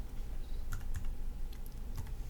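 Keystrokes on a computer keyboard while entering text in InDesign, a few soft clicks spaced irregularly over a steady low room hum, close and fairly quiet with no talking.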